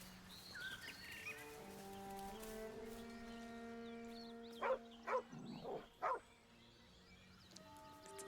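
A dog in Baldur's Gate 3 gives a few short, loud barks near the middle, set over sustained game music with no talking.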